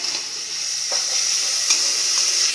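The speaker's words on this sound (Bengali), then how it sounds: "এর মধ্যে এখন আমি দিয়ে দেব আদা রসুন এবং লঙ্কা বাটা।" Ginger, garlic and chili paste sizzles in a hot frying pan, a loud, steady close-up hiss that rises slightly as the paste settles into the oil.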